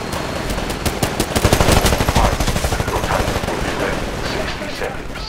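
An enemy pilot fires at the player across a building in the PC game Titanfall, rapid automatic gunfire in a dense rattling burst that peaks and then trails into scattered shots, with a voice talking over it.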